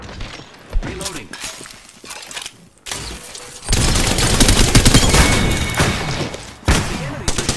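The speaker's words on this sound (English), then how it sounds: "The enemy is shooting at me now." Enemy gunfire in Apex Legends, starting with scattered single shots and thuds, then erupting into a loud continuous fusillade of rapid automatic fire for several seconds, with a voice speaking over parts of the exchange.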